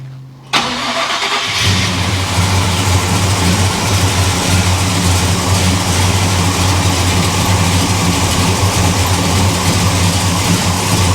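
A hot rod car engine cranks briefly, catches and then runs steadily at a loud, close, even idle for several seconds, with no talking over it.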